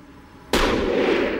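Black gunpowder explodes in a single sudden, loud blast that cuts in after quiet and leaves a sustained roaring, crackling rumble behind it.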